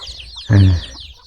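One loud, close cluck bursts out from a chicken kept with ducks beside a new rural house in the early morning, a single short call standing out against a quiet outdoor backdrop.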